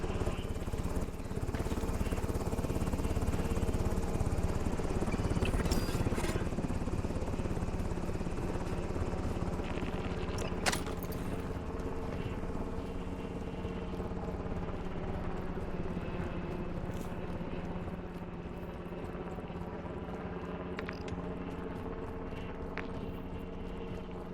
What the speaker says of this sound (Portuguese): O helicóptero tá saindo da área